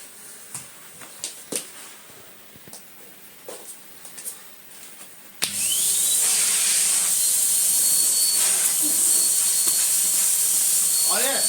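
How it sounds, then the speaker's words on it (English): A Numatic vacuum cleaner, run bagless with its hose and tools attached, starts with a sudden loud whoosh and then holds a steady, strong hissing roar close by. Faint handling knocks come before it. "Connect up the tools. And do some vacuuming."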